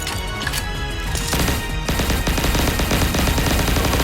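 Rapid automatic gunfire rattles in Pixel Gun 3D, dense close bursts of shots that thicken into a continuous barrage over the last half.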